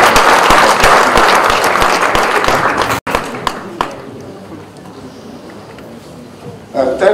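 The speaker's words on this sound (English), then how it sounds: "Please a warm round of applause for him." Warm applause greets a guest at a youth event, a loud, dense burst of clapping that stops abruptly about halfway, followed by a few scattered claps and quieter room noise.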